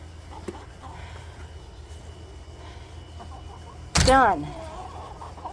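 Backyard chickens cluck softly in the background, with one brief louder squawk near the end. A person speaks briefly close by.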